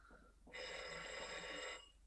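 A telephone rings in an old film scene, one bright, loud ring lasting just over a second after a short quiet stretch with faint background noise.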